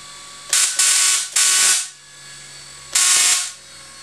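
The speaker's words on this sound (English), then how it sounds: "little motor just winding there for a second" A small motor winds in short bursts during a power-level leak test, making three loud whirring, hissing pulses separated by quieter low hum, with no talking.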